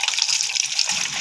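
Water splashing and trickling while stinging catfish are washed with papaya peel, a short close burst of running, gushing water.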